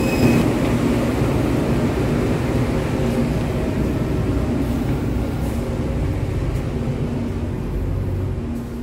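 A Kaligung passenger train with a vintage locomotive and executive-class coaches runs steadily, a loud continuous low rumble of rolling wheels with a few faint higher squeals, with no voices.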